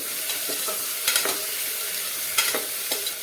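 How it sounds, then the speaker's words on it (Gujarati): Potatoes and tomatoes sauté with onions in a hot pan, a constant close sizzle broken by repeated scraping strokes of a spoon stirring at an uneven rhythm. "હવે આપણે બટેટા અને ટમેટાને પણ થોડી વાર માટે સાતળી લેવાના છે."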